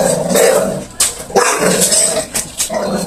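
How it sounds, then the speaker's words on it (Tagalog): A dog barks loudly and close by in a series of sharp, uneven barks with brief growly edges and short pauses between bursts. "Aso!"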